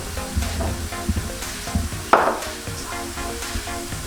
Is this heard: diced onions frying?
yes